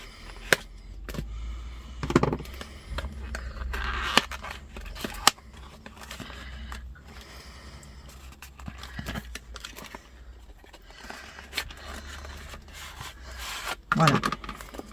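Card packets being opened by hand, with crinkly wrapper rustles, rubbing and sharp tearing or snipping bursts scattered through, loudest near the start and end, plus faint talk in the background.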